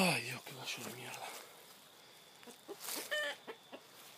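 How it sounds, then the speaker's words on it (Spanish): A rooster clucks in a few short bursts near the start, then a person speaks in short phrases with brief bird calls mixed in, all fairly close and moderately loud. "Ay, Dios, qué gallo de mierda."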